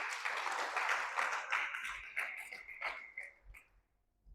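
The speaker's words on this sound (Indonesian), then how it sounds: "Berikan tepuk tangan bagi Tuhan kita." A church congregation applauding: a faint, distant wash of many hands clapping that holds steady and then gradually dies away into near silence.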